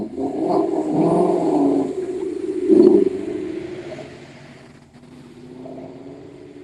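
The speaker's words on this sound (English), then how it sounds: "those engine revving sounds" A car at a dusk rolling car show in Doylestown revs its engine in a short burst near the middle, rising over a steady rumble of passing traffic before fading to a quieter idle.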